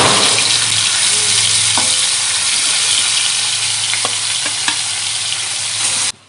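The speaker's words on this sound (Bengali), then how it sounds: "বাকি মাছগুলো ভেজে নেব।" Amudi fish frying in mustard oil in a pan: a loud, steady, close sizzle with faint crackles, running without pause until it cuts off abruptly at the end.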